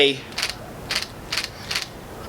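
A Nikon Z6II mirrorless camera fires its shutter four times at an even half-second pace, each a crisp close mechanical click-clack, with faint room tone between.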